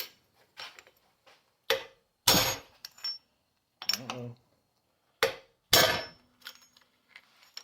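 A valve spring tool being struck onto an engine valve gives several sharp metallic whacks at irregular intervals, close and fairly quiet, with silent gaps between the hits.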